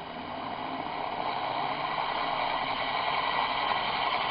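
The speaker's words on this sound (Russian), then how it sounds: "работает с такими рывками непонятными" Electric motor driven by a VFD ZW-BT1 inverter, running unevenly at speed with a steady broadband whir and hum that surges slightly, close and continuous throughout.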